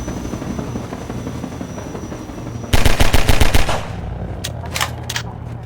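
In Half-Life 2, a Combine attack helicopter whirs steadily as a rapid burst of heavy gunfire rattles for about a second, followed by a few shorter scattered shots.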